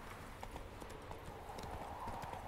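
Horse hooves clip-clopping in The Witcher 3: Wild Hunt, a quiet, steady rhythmic patter of hoofbeats over a soft ambient game background with no talking.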